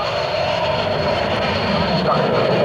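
An RAF Tornado GR1 jet passes over an airshow at RAF Coningsby, its engine noise a steady loud roar. A commentator's voice runs beneath it.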